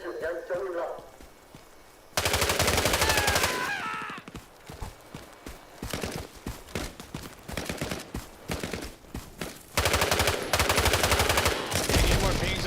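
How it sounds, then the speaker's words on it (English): Rapid automatic fire from an M16 rifle in the Hell Let Loose Vietnam video game: long, loud, sustained bursts with short pauses in between, alongside other distant gunfire and brief voices. "the M16. Burned through that ammo like crazy."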